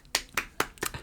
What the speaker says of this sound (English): I had to applaud you for that one.